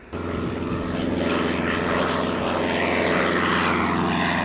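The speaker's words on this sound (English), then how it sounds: "You see charter airplanes coming in supporting the NASCAR teams." Propeller-driven charter airplanes arriving at an airport during a NASCAR weekend drone loudly and steadily throughout, a continuous close engine and propeller roar with no talking.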